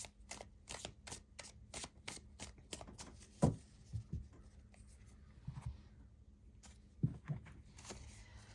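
Tarot cards shuffled and laid out on a table, a quick run of soft riffling flicks followed by several separate taps and slides as cards are placed, quiet and close.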